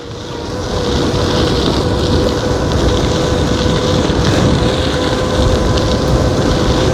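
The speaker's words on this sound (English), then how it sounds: "I'm into the wind here." Steady, loud wind roar buffets the microphone while riding a Varstrom 48V 750W geared hub electric bike at speed, a continuous broadband rush with no voices.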